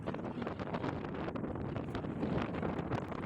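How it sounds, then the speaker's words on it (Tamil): Strong wind buffets the microphone in a steady, loud roar, with big sea waves crashing and churning beneath it on the Kerala coast at Bekal, continuous and close with no pause. "காற்று பயங்கரமாக இருக்கிறதுனால பெரிய பெரிய அலை வருது."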